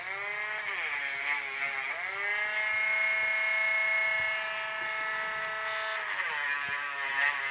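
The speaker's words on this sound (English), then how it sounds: "We're going to just kind of sand that up and make it nice." A high, steady whine of a small rotary sanding tool smoothing the lip of a coin ring made from an 1890 Morgan silver dollar, pitch dipping briefly a few times as it bites the metal, close and continuous.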